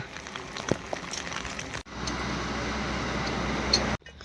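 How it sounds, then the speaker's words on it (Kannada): Heavy rain pours steadily on a roadside during a trip, a dense continuous hiss close by, briefly cut off and then resuming, with no voices. "ಇದು ಏನು ಮಳೆ ಸಿಕ್ಕಾಪಟ್ಟೆ ಮಳೆ ಬರ್ತಾ ಇದೆ ಈ ಕಡೆಗೆ"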